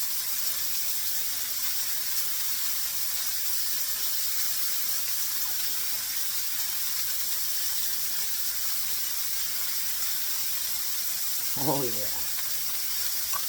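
Burgers sizzle on a Vevor griddle, a constant close hiss that runs evenly throughout, while a voice speaks briefly near the end.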